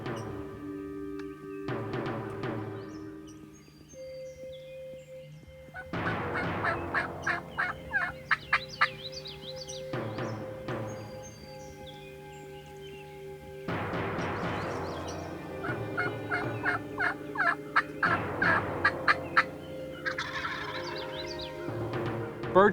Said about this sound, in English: Birds pitched out, birds gobbled.